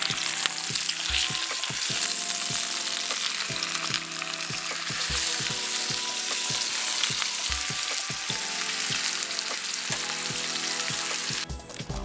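Steaks sizzle loudly in a frying pan just after being flipped, a dense, steady crackle and hiss filling the whole stretch, with a few soft knocks from the pan and no voices.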